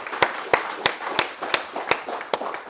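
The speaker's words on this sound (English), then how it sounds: "Let's give a round of applause there" Sparse clapping at a promotions ceremony: about ten sharp, evenly spaced hand claps, moderately near, with faint background murmur and no clear speech.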